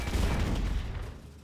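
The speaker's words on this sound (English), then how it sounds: "That is one fucking hell of a shotgun." A powerful shotgun firing in the video game Bad Bots, heard as one loud, dense blast with a booming low-end body that holds and slowly decays over about a second, with no voices.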